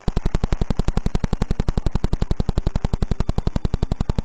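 Vela pulsar radio signal rendered as sound: a rapid, relentless train of loud identical pulses, one every 0.0893 seconds, rattling like a buzzing machine-gun beat with no pauses.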